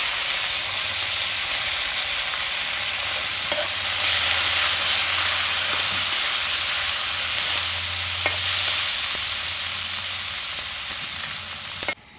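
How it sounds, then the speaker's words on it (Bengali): Green chili and garlic frying in oil in a home kitchen, a steady broadband sizzle running the full length with occasional stirring clicks and scrapes, close and fairly loud with no talking. "এই মরিচ আর রসুন ভাজতাছি।"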